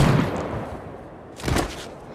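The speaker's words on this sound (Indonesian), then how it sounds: "Ya, Oscar ditembak mati oleh seorang penembak jitu." A single sharp sniper gunshot cracks out after a stretch of quiet, low background noise, then fades quickly.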